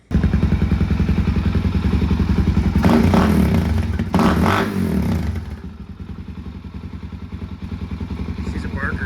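A Suzuki DRZ400S dual-sport motorcycle with an FMF Powercore exhaust and spark arrestor idles with a loud, rapid single-cylinder thump, briefly rising with rattly revs midway before settling back to a steady, slightly quieter idle.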